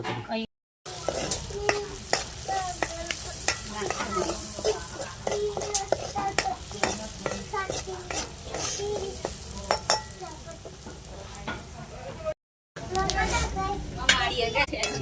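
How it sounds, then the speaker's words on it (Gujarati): Green chillies roast in a pan with a steady sizzle and repeated stirring scrapes and clinks of utensil against metal, loud and close throughout, with a brief gap near the start and another toward the end, and voices murmuring underneath. "હાલ મરચું શેકાય છે"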